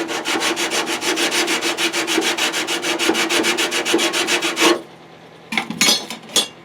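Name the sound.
sanding a Taylorcraft airplane part during restoration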